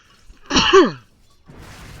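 A single sharp sneeze bursts out, loud and close, followed by a short pause and then faint background noise.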